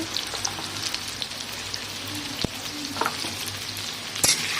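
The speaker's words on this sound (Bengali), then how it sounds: "নুন হলুদ দিয়ে ভাজা হবে আলুটা" Potatoes with salt and turmeric sizzle and crackle steadily in hot oil, with a few sharp pops and scraping stirs over the frying.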